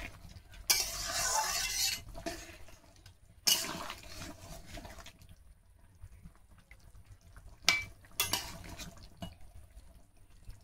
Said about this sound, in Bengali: তো ঢাকনা খুলে একটু নেড়ে দিয়ে দেবো।